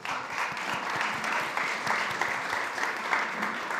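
A conference audience at a food summit gives a steady burst of applause, dense even clapping that continues throughout without any talk.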